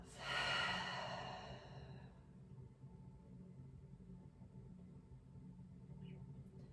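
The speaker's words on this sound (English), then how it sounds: "And take a nice, easy inhale. And exhale out of your mouth." A slow, audible exhale through the mouth during a relaxing breathing exercise, loud and breathy for the first two seconds then fading into quiet room tone.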